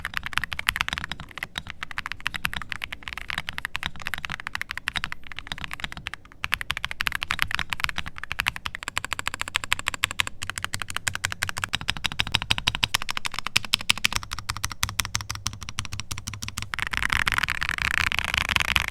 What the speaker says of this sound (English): The switches come pre-lubed, feel decently smooth, and produce a crisp, thin, thocky sound.